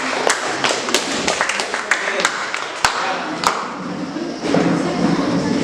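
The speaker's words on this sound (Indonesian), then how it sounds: "Ya, tepuk tangan dulu buat kelompok." A classroom group claps for a presenting group, scattered irregular hand claps of varying loudness that thin out over a few seconds amid background chatter.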